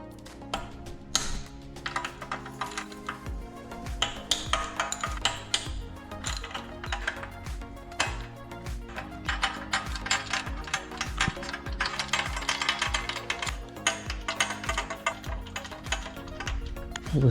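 Wrench ratcheting loosens the cylinder head bolts on a Predator 212 small engine in a workshop, with dense, continuous clicking pawl bursts running nearly the whole time, fairly loud and close, with no talk.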